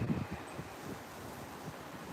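Strong wind blows outdoors at an exotic animal rescue, a low, rumbling gusty roar buffeting the microphone, loudest at the start and then easing to a steady whoosh, with no talking.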